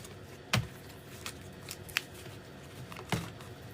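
A deck of cards shuffled by hand, heard as three or four separate sharp snaps and soft flutters spaced about a second apart, close by over a low steady background hum.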